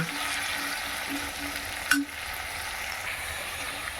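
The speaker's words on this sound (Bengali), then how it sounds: "দেখো বন্ধুরা আলুটা আমি এরকমই ভাজবো" Potatoes frying with salt and turmeric in a pan, a steady low sizzle throughout with one brief clink of a utensil midway, no talking.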